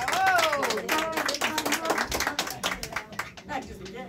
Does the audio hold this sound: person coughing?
no